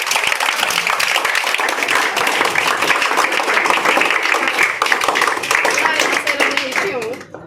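A crowd claps steadily and loudly for several seconds, a dense sustained round of applause that tapers off at the end, with voices mixed in.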